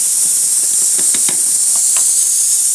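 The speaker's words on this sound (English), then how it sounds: "we just put in the bacon into a nice hot pan. We're going to wait for it to fry up." Smoked bacon frying in a hot pan makes a loud, constant hiss, with a few faint pops and ticks scattered through it.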